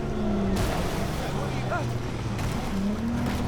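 Car driving around a city in the Cyberpunk 2077 video game, a steady engine drone with shifting pitch and continuous road noise, loud and unbroken throughout, with a voice talking over it.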